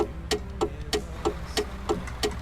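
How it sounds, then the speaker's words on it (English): Interior turn indicator of a truck in Euro Truck Simulator 2 ticks loudly and steadily, about three clicks per second, sharp and close over a low engine hum. "this particular truck has very loud interior indicators"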